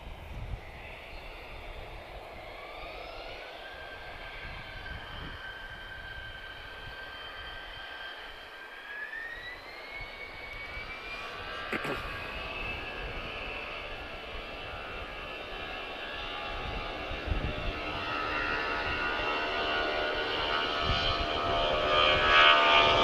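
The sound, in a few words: heavy Boeing jet airliner at Lisbon Airport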